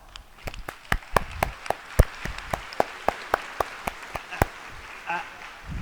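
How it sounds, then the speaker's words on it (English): Scattered, sparse clapping from a small audience at a Roblox developer conference, sharp individual claps spaced unevenly across the moment, fairly close and modest in volume, with faint voices underneath. "Let's give him a round of applause"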